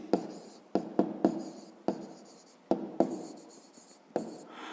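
A pen or pencil writes out a maths inequality on paper, a run of close scratchy strokes broken into short bursts with tapping starts and brief pauses between them, quiet and without speech.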